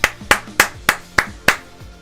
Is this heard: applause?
yes